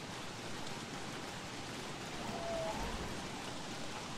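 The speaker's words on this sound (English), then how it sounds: "especially now when it's raining." Steady rain falls in the survival video game Don't Starve, a dense even hiss that runs without break under quiet game sound, with no talk.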